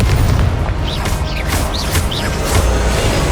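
Confringo fire spell from Hogwarts Legacy, heard as loud, booming blasts repeated in quick succession over a constant roaring din, with whooshing streaks between impacts.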